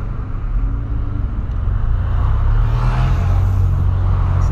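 Heavy city traffic heard from inside a Polo car, a steady, loud low rumble of engines that swells slightly toward the end, with no talking.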